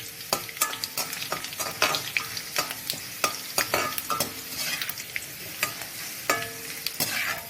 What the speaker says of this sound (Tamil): பூண்டு நல்லா பூண்டு எண்ணெயிலே வேகணும்